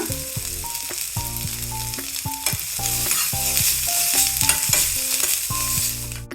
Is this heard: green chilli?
yes